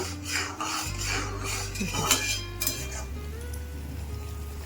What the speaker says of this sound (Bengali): মশলাটাকে একটু ফুটতে দেব